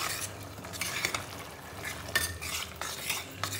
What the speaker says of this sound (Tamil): காயில் ஃப்ளேவர் இருக்கிறதுக்கு தண்ணி ஊற்றி கொஞ்சம் நேரம் கொதிக்கிறோம்